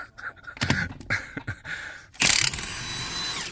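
Impact wrench running at full power to take the wheel bolts off a vehicle, a loud sustained buzzing burst following several shorter clanks and handling knocks.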